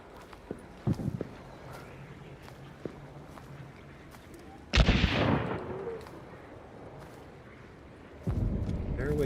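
Gunfire in the Hunt: Showdown video game sounds at a distance: a few faint isolated pops, then a heavier booming report with a rumbling tail, and another blast near the end.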